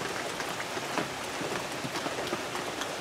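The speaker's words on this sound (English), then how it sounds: "It is raining cats and dogs." Heavy thunderstorm rain pours down in a dense, steady hiss with countless close drumming drops pattering on surfaces.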